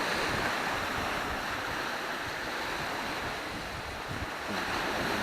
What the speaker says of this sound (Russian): Нам понравился этот пляж.